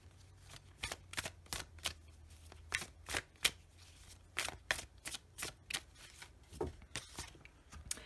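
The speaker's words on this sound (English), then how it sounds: "Let's draw a few love oracle cards for you." Love oracle cards being shuffled by hand in a pick-a-card reading: a quick run of crisp riffling bursts, close and quiet, with no talking.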